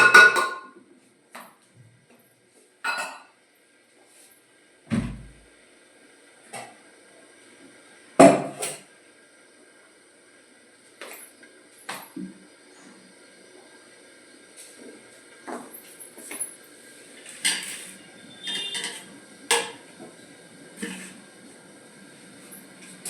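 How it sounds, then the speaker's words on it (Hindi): Washed lentils go into a pressure cooker in a home kitchen, with scattered clinks and knocks of metal pots and utensils spread out and separated by quiet gaps. "अब मैं दाल को इसमें कुकर में ही डाल दूंगी।"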